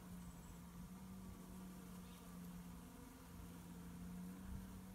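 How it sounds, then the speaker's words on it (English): Bees buzz among plum blossoms in a soft, continuous drone. The sound is faint and distant, with no voices over it. "lots and lots of bees in the blossom."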